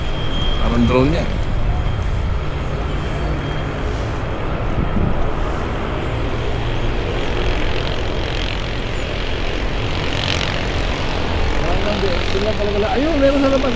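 A drone hovers and flies overhead outdoors, its steady propeller buzz droning on continuously for the whole stretch while people chat nearby.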